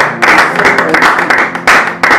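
A church congregation claps together in bursts of rhythmic hand claps, loud and close, with brief pauses between groups of claps.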